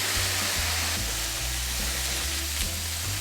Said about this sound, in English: I'm going to sauté the potatoes in cooking oil over medium heat for 4 to 5 minutes.